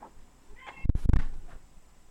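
A cat meows indoors, a single short, fairly close call rising over a quiet background with faint room noise.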